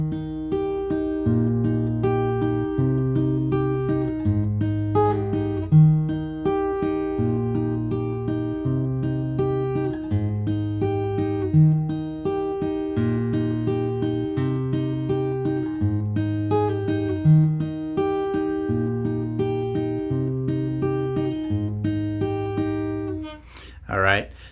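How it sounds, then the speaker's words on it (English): Electric guitar riff, alternating a repeating pull-off figure with plucked strings in a steady looping rhythm, clear and upfront for about twenty-four seconds with no talking. "So it alternates between doing that little pull-off riff"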